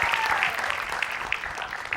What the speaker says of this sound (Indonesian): Tepuk tangan lo buat Bintang